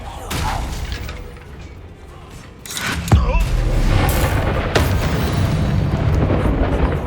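Confringo blasting spell detonating in the video game Hogwarts Legacy: a loud burst with a sharp crack around three seconds in, followed by a sustained rumbling roar of combat noise and scattered impacts.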